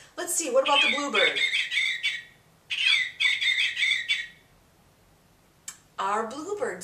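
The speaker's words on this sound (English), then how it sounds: "Our bluebird singing too." A bluebird sings in repeated bursts of clear warbling notes separated by short pauses, with a brief click and another call at the end.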